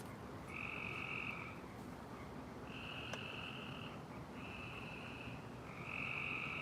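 Frogs croak in a backyard, a chorus of steady, sustained trilling calls repeating in long bursts over a dense background of lower croaking, fairly close and continuous.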